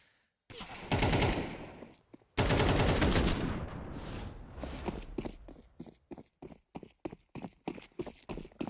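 Rapid bursts of AK rifle fire in a Counter-Strike match, two long sustained volleys followed by a string of short, evenly spaced single shots, loud and close with no talk over it.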